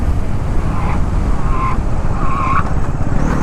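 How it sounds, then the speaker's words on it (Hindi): A 2025 Bajaj Pulsar 400Z motorcycle tyre squeals in short, repeated chirps under hard braking. The chirps sit over loud, continuous road and wind rumble. "टायर के स्क्रैचिंग साउंड्स आने लग जाते हैं अगर आप बहुत एग्रेसिवली ब्रेकिंग प्रेस करते हो"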